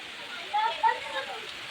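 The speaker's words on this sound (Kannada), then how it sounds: "ನೋಡಿ, ಮಳೆ ಎಷ್ಟು ಚೆನ್ನಾಗಿ ಮಳೆ ಬಂತು." Heavy rain pours down steadily, a dense, even hiss of falling water close by, with a faint voice briefly rising over it.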